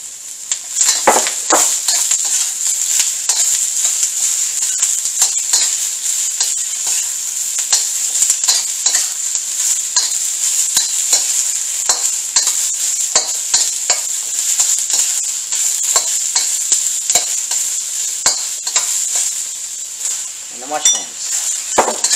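Peppers sizzle steadily in a hot pan for a honey soy salmon stir fry, a bright continuous hiss broken by frequent scrapes and stirring clatter, close and loud with no talking.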